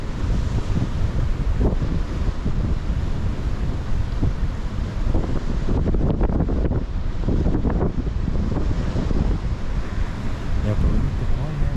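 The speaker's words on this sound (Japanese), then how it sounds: "風はもうないけど波だけはすごいね。" Huge ocean waves roar continuously during a typhoon on Yoron Island, with constant heavy buffeting and a low rumbling surge heard from a car driving along the shore.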